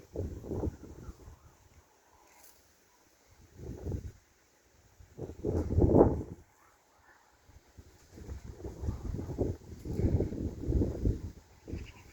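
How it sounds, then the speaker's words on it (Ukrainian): Strong gusty wind buffets the microphone outdoors where Turkish takla pigeons are being flown. Several rumbling bursts come and go over twelve seconds, with quieter gaps between them and the loudest gusts near the middle and end. "Якийсь вітер непідйомний чи наоборот"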